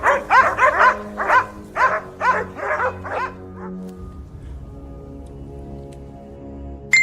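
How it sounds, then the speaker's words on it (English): Several hunting dogs bark in a burst of loud, rhythmic woofs with some yips that slow and fade after a few seconds, leaving a quiet, low outdoor background on a mountainside. "suddenly, the barking of dogs rang out again"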